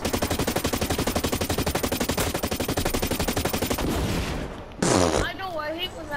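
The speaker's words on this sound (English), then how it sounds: "I love my assault rifle. It's got so many rounds." Rapid assault rifle fire in the first-person shooter Blacklight Retribution, a loud, evenly spaced automatic burst of dozens of rounds lasting several seconds, then stopping, followed by a sharp bang and brief electronic whirring.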